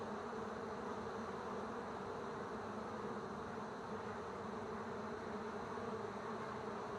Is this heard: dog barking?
no